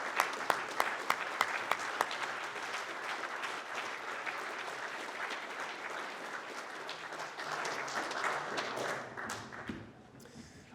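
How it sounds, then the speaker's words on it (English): Audience applause at a Rotary Club Veterans Day recognition, honoring standing veterans; sustained clapping of a room-sized crowd with a few sharper nearby claps, fading toward the end. "let's give you a round of applause"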